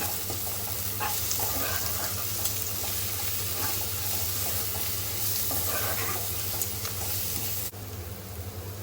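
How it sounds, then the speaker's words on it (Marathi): Garam masala and coriander powder sautéing in a pan for an egg and spinach curry, a steady broadband sizzle running throughout with occasional faint scraping or clinking, dropping slightly near the end. "गरम मसाला एक चम्मच धणी पावडर एक चम्मच थोडं परतायचं"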